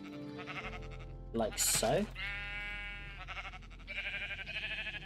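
Sheep in a Minecraft wool farm bleat several times in a row, game-style bleats standing clear over a steady low hum, with a person talking around them.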